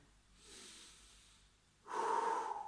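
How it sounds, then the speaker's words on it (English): Deep breathing during a stretching routine: a soft, slow breath in is followed by a stronger, louder breath out close to the microphone, with no talk. "big deep breaths"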